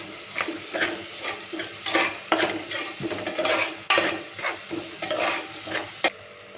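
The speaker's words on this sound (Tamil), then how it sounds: "ஒரு 5 மினிட்ஸ் இப்படியே வதக்கிட்டே இருங்க." Onions sautéing in a pan for chicken biryani, with a steady sizzle and repeated scraping stirs of a utensil against the pan, several louder clatters spaced through the stretch; no talking.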